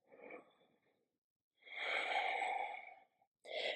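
Slow, deep breathing during a heart-opening yoga flow: a soft exhale, a pause, then a long, fuller breath, with a brief breath starting at the end, close and quiet with no speech.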